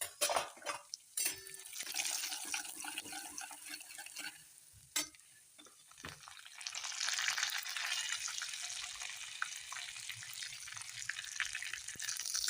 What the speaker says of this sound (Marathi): जिरं आणि तीळ टाकून घेतली.